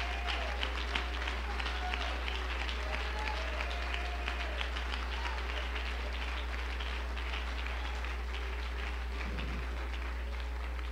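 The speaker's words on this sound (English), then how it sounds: "Give the Lord a hand clap of praise" Steady applause from a church camp meeting congregation, a dense patter of many hands clapping continuously with a faint low hum underneath.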